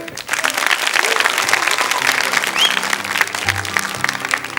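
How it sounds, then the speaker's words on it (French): A studio audience on a French children's TV show applauds a seven-year-old boy, thick continuous clapping with crowd murmur and a few voices beneath it. "On l'applaudit très fort."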